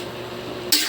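A brief stir of sautéed carrots and chayote in a pan, a soft scrape that swells near the end into a bright, close sizzle.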